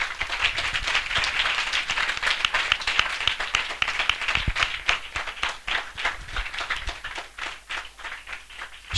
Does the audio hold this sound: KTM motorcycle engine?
no